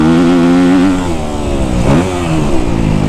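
A Kawasaki KX250F dirt bike engine revs loud and close, its steady high drone swelling and falling through one quick blip near the middle.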